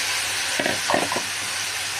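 Mixed vegetables hit seasoned onion in a pan and sizzle with a steady hiss, briefly broken by a few soft stirring clatters near the middle.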